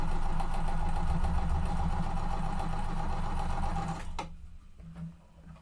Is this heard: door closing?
no